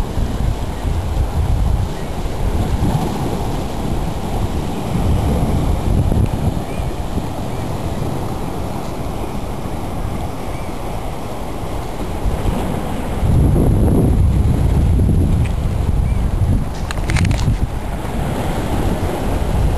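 Strong wind roars steadily across the microphone during a severe thunderstorm on the shore of Lake Superior, with surging gusts and heavy wash of waves beneath, loud and continuous throughout.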